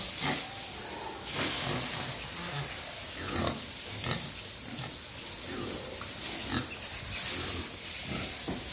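A pig drinks water at a pig farm in cold weather, with repeated wet slurping and snuffling bursts over a constant hissing background, close and moderately loud.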